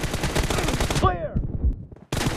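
An M416 rifle firing in PUBG Mobile, a dense loud automatic burst that cuts off, a short lull with faint clatter, then firing resumes abruptly.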